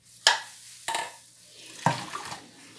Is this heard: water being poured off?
yes